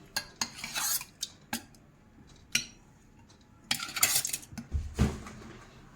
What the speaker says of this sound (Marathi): आता आपण बर्फ टाकायचे थोडेसे त्याच्यानंतर दही दही टाकूया